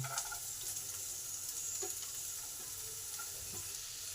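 Chopped onion frying in oil in a pan alongside half-fried garlic, a steady close sizzle with a few light clicks from a stirring spoon.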